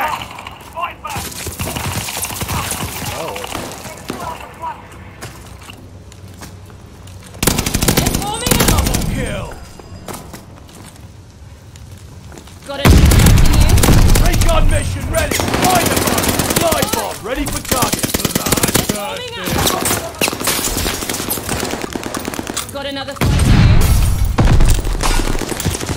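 Gunfire in a Call of Duty Vanguard team deathmatch on the Sub Pens map: bursts of loud automatic weapon fire and heavy booming shots come in waves, with players talking throughout.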